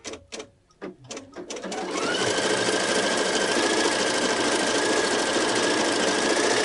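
A Pfaff Creative Icon 2 embroidery machine stitching with cutaway stabilizer in an optional frame, starting with a few short bursts, then running as a steady, loud, close, continuous whir with a faint high tone.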